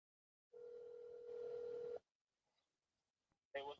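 A telephone dial tone: a steady, fairly loud electronic hum lasting about a second and a half, then quiet with faint clicks, followed by a brief burst of sound at the end.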